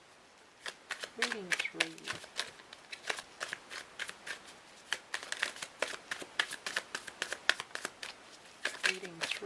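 A deck of cards is shuffled near the microphone in quick bursts of riffles and slaps, while a person talks briefly in between.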